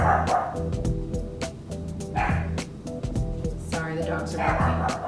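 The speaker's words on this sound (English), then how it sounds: "Sorry, the dogs are barking." Several dogs bark repeatedly in quick, irregular bursts with some yips, fairly close and loud, mixed with a person speaking.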